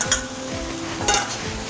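Pork and chopped cooked shrimp fry in a pan with a steady close sizzle, and a utensil stirs and scrapes through the mixture in a few brief bursts.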